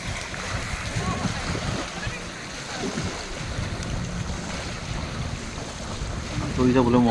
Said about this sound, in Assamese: পানীৰ ঢৌৰ শব্দ